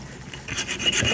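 Hand file rasping at a drilled hole in metal to smooth its serrated edge, a few close, gritty scraping strokes that grow louder toward the end.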